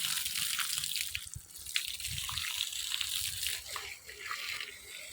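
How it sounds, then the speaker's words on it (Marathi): Water sprayed over stacked bricks and columns at a house construction site, a steady close hiss and splash with faint drips and trickles throughout. "विटा थोड्या वल्ल्या करतो चांगल्या."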